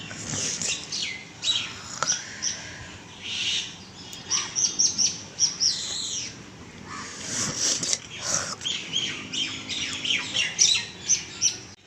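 Common mynas sing and chirp in a lively overlapping chorus, with bright repeated calls, squawks and whistles in bursts throughout, fairly close and loud.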